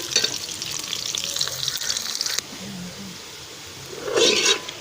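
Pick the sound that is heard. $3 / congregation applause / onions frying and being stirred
onions frying and being stirred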